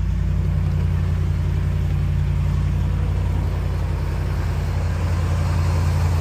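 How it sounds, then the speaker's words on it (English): A RAM truck with a 5.7 Hemi and an Edelbrock supercharger idles while warming up, giving a steady, close, low engine rumble that holds even throughout with no talk. "I'm gonna let the truck warm up for just a second before we take off."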